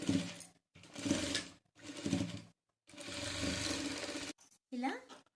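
A sewing machine stitching a petticoat in short bursts of rapid mechanical whirring separated by brief pauses, close and clear, with a voice briefly heard near the end.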